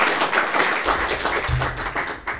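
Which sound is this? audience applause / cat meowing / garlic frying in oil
audience applause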